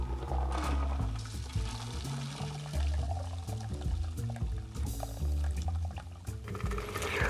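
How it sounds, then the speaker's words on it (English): A Bohemian Passion cocktail is fine strained into a martini glass, a steady close pour of liquid trickling through a strainer, held back from ice chunks and pulp, running continuously for several seconds. "what we wanna do is fine strain this to keep out any ice chunks or a little bit of the pulp that's in there"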